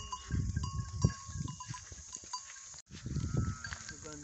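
Local Mau goats on a farm bleat in a few short, repeated calls close by, with low farmyard background noise between the cries.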